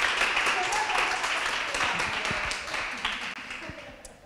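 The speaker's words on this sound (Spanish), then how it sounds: "un aplauso para Cristina por la limpieza del micrófono continuo" Audience applause at a talk on whether meat consumption is sustainable, a soft mass of clapping that fades gradually over a few seconds, heard from a distance.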